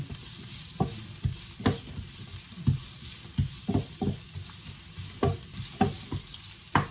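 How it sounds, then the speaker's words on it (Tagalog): Onion frying in a pan on full heat, a soft steady sizzle under repeated scraping and stirring strokes of a utensil against the pan, irregular and close, with no talking. "Kailangan naka-full temperature tayo para madali maluto yung tina-fry natin onion"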